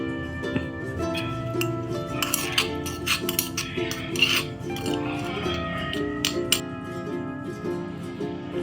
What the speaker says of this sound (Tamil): நம்ம மிளகு ஜீரகம் இதை நல்லா இடிக்கல்ல போட்டு தட்டி எடுத்து வச்சுக்கலாம்